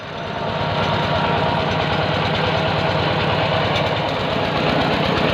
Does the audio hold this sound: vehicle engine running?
yes